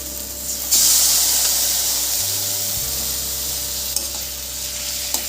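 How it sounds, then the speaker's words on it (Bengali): Boiled, peeled eggplant hitting a hot pan with onion, garlic, green chilli and tomato, setting off a sudden loud burst of sizzling that hisses on steadily and slowly eases, close up. "বেগুনটা আমি এর মধ্যে দিয়ে দিচ্ছি"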